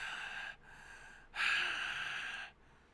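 Gasping for breath after a fall in a visual novel: two breathy, airy gasps, the second longer and louder, heard alone with no talk.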